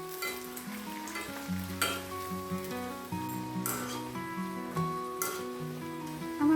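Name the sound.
khaja pastry pieces frying in white oil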